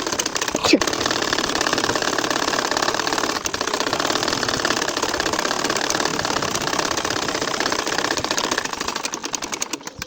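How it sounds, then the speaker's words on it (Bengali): A household sewing machine runs steadily, stitching wavy lines through a nakshi kantha quilt; a loud continuous mechanical whir with fast needle rhythm fills the whole stretch, close up, with brief knocks near the start. "একইভাবে প্রত্যেকটা খোপের মধ্য দিয়ে দেখো সেলাই করে নিচ্ছি"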